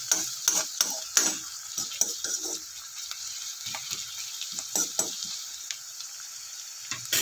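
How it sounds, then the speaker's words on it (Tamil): Onions frying in an iron kadai for a Kerala dish, with soft steady sizzling under repeated sharp scraping and stirring taps of a spatula against the pan, close and moderately quiet. "வெங்காயம் கொஞ்சம் செவக்க வேகட்டும்."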